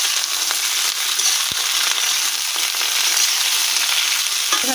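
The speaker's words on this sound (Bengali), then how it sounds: "ফুলকপিগুলো দিয়ে এখন এটাকে একটু ভেজে নিচ্ছি।" Cauliflower florets fry in hot oil with a loud, dense and constant sizzle that runs unbroken throughout, and a faint tap or clink is heard now and then.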